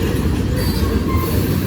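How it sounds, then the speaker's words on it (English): A heavily loaded grain freight train rolls past close by, with a loud, continuous rumble of wheels on rail and a faint metallic squeal riding over the roar. "That's a loaded grain train."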